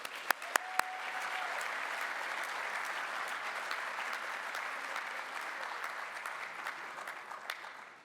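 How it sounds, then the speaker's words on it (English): Audience at a high school National Honor Society induction ceremony applauding, an even, sustained roar of clapping heard from a distance with a few sharper claps at the start. "one more round of applause for them."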